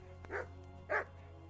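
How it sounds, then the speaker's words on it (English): A dog in the medieval role-playing game Kingdom Come: Deliverance gives two short barks about half a second apart, moderately loud against a steady background hum, with no talking. "at least the dog will start barking now"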